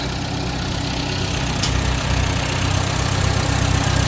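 The engine of a 1947 Farmall A tractor runs close by in a steady, loud idle with an even, low, throbbing rhythm.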